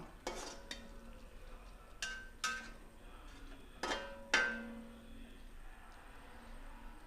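A spoon stirs curry leaves, garlic and ginger into beef pickle in a pan: a handful of sharp metallic clinks and scrapes spaced over several seconds above a quiet background hiss.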